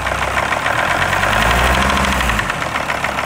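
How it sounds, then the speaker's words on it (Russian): A Mercedes ML W163 engine with a knocking fault runs close and loud, a steady rapid metallic ticking over the idle drone with no talk. "Застучал мотор."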